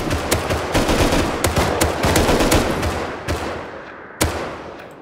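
Gunfire in the survival game Rust inside a military tunnel: loud, dense bursts of automatic fire with rapid repeated shots, thinning out toward the end, where one sharp final shot rings out.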